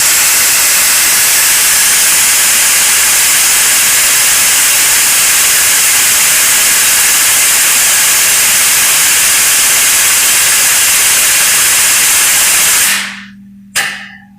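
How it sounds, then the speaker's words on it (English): A loud, constant hiss of a press, likely hydraulic, holds steady for a long stretch while car body mounts for a scratch-built 1963 Ford floor pan are formed in a homemade die, then cuts off abruptly with a brief low hum. "I'm just pressing a couple body mounts"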